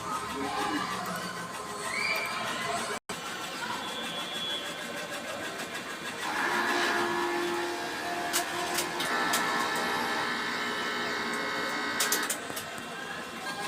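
A DTF printer runs a head-cleaning cycle nearby, whirring and clicking with shifting motor tones and short bursts of activity.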